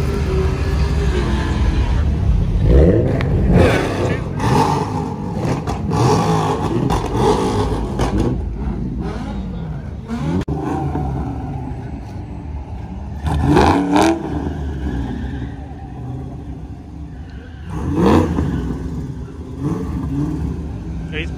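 Car engines rev and roar at a large outdoor car meet, recorded on a phone: a steady mechanical din with several louder surges standing out, and people talking through the crowd noise.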